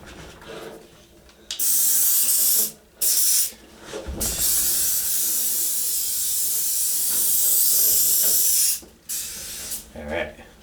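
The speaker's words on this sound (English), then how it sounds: "Just using some silicone spray." Silicone spray hisses onto rubber on a 1959 VW single cab pickup under restoration, several loud close bursts of aerosol, one of them long and sustained, with quiet gaps between them.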